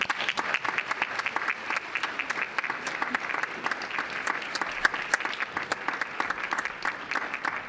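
An audience at a conference breaks into sustained applause, dense and steady clapping for several seconds, moderately distant and alone without talk.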